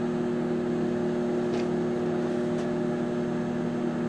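Magic Chef HMM1611B2 microwave running, a steady low magnetron hum with a constant drone and fan whir throughout, moderately loud and unchanging.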